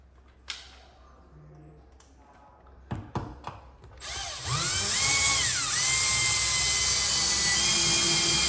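A power drill drives a long screw through door trim into wood while mounting an automatic door opener: a few clicks and knocks, then a loud, steady high whine that ramps up and holds close to the microphone.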